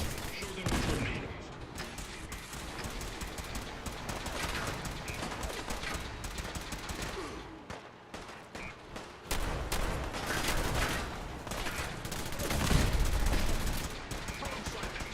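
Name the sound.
automated turrets firing guns in the video game Fallout 4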